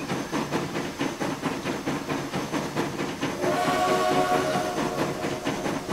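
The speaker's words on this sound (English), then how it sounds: "There goes the whistle, the horn, whatever you want to call it." A steam-style train whistle sounds in the railway simulation game Transport Fever 2, a sustained tonal blast rising over rhythmic chuffing and rail rumble that continues throughout, with no talking.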